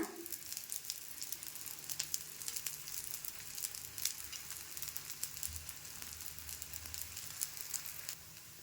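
Akki rotti, a rice-flour flatbread, frying in oil on a medium flame, a soft, steady crackling sizzle with scattered pops, fairly quiet and without any voices.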